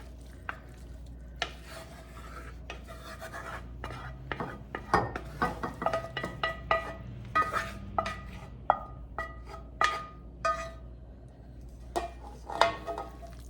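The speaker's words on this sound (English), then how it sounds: "I have sprayed this casserole dish and I'm going to put the meat and vegetables into it" Spoon scraping and clinking against a sprayed casserole dish as meat and vegetables for shepherd's pie are spooned in, with irregular close taps, scrapes and soft wet shuffles over a steady low hum.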